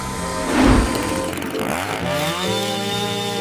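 A chainsaw engine, lifted by a clamshell grab to cut a tree trunk, revs loudly up close, surging and then settling into a buzzing, fluctuating drone.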